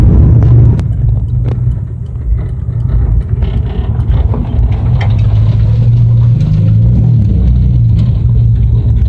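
A Mirabito Performance 265 HEMI engine runs steadily on a dyno, a loud, continuous low rumble close by with a smooth, even idle-like throb throughout.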